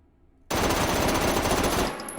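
Full-auto gunfire from a video game gun test with the stock back: a sudden, loud, continuous burst of rapid automatic shots lasting about a second and a half, then cutting off.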